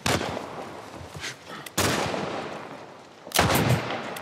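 Gunshots in The Last of Us Part I, three loud sharp blasts spaced over a few seconds, each followed by a decaying echoing tail.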